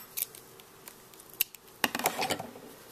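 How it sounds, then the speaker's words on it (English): Scissors snip excess crochet yarn up close: a few quiet, sharp clicks, then a short cluster of soft cuts near the end, with no talking. "cut off the rest of the excess."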